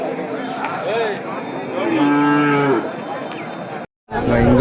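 Native cattle at a weekly livestock market in Matrapalli give a few loud, drawn-out moos close by. Faint background market noise and murmured voices sit underneath.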